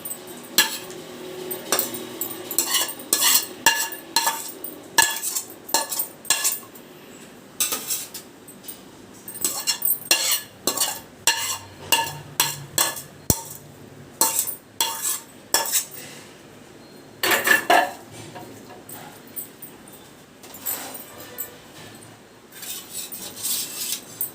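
A spoon repeatedly scrapes and clinks against a biryani pot as vegetable curry is layered in over rice, in irregular bursts of sharp metallic taps and scrapes, close and loud, with no talking.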